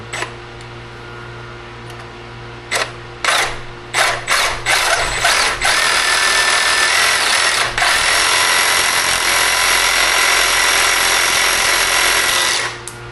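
Power grinding on a billet Coyote crate engine: a steady, loud, high-pitched tool whine that runs continuously for most of the stretch after a few short bursts at the start.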